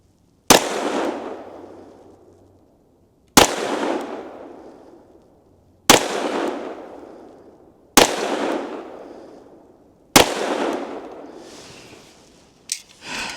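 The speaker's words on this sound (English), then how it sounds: "We'll see how we can do with this Grizzly ammunition" Five sharp 10mm pistol shots using Grizzly heavy JHP ammunition crack out one at a time a few seconds apart, each loud report decaying into a short echo at an outdoor range.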